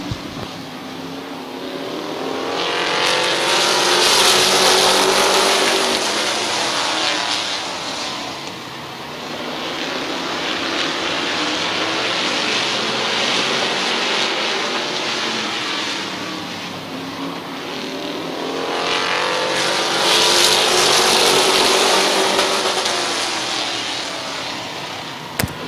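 Race cars at Midvale Speedway thunder past in a loud, sustained engine roar that swells, fades slightly, and swells again as the field laps the track.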